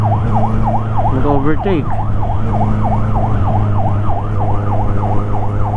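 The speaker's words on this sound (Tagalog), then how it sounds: "So ito may wangwang yung ambulance" An ambulance siren wails in a steady repeating up-and-down sweep throughout, heard from a vehicle on the Skyway highway southbound from Quezon Avenue to Buendia, with a constant road and engine rumble beneath and a brief spoken word partway through.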